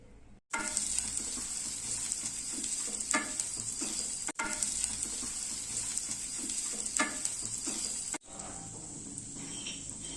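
Chopped onion and red chili fry in oil in a pan for raw mango rice, a bright continuous sizzle broken by two brief gaps and quieter at the end, with faint stirring underneath.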